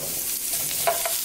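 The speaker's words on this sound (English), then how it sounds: "These take like longer to saute, so I put them in first." Vegetables sauté in a hot pan with a brief, steady sizzle and the scrape of stirring up close.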